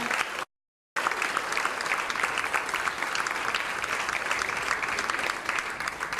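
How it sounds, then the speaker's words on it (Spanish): Church congregation clapping loudly and steadily in a sustained burst of applause, broken by a brief moment of silence near the start. "¿Cuántos pueden darle un fuerte aplauso al Señor?"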